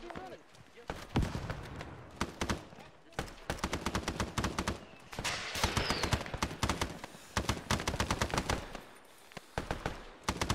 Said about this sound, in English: What the fuck did you shoot at?